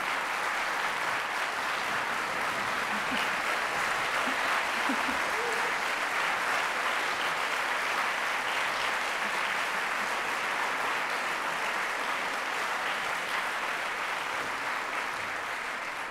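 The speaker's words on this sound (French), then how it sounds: "Une main d'applaudissements pour l'orchestre." An audience at an opera gala applauds the orchestra with dense, sustained clapping that stays loud and even for the whole stretch, with no voices rising above it.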